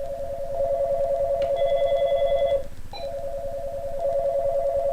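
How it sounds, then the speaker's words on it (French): Several telephone lines ringing at once with a steady electronic tone that holds for a few seconds, breaks briefly, then resumes, with a higher chirping tone layered over part of it. "la ligne 4 sonne, la ligne 6 sonne et la ligne 7 sonne"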